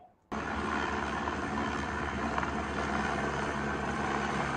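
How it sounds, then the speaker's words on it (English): Steady, loud helicopter rotor and engine noise starts abruptly and continues without a break, the helicopter used by the Florida State head football coach. "But Florida State head coach, Coach Novell, used a helicopter."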